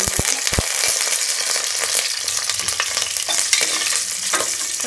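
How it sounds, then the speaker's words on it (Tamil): Four green chillies and whole spices such as star anise, cloves and rose petals fry in hot oil for mushroom biryani, a steady close sizzle with scattered pops and stirring clatter throughout, no voices. "பச்சை மிளகாய் நல்லா பொரிக்கும்."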